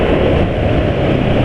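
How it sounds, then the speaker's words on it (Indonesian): A steady, loud broadband whoosh of an air conditioning fan running inside a car, constant and unbroken with no voices. "Kan banter suara kipas AC, nah itu yang kedengar."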